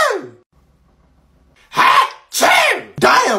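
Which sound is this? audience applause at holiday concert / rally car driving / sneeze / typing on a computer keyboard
sneeze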